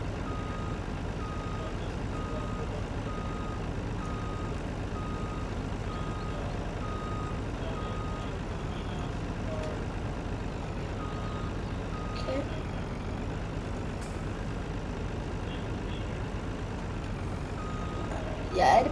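A construction truck in a video game backs up, its reversing alarm beeping in a steady, evenly spaced rhythm over a constant low engine rumble and dense background noise.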